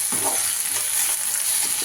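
Chicken pieces hitting a hot pan of home-cooked masala sizzle and fry with a steady, soft crackle, close by and continuous with no talking.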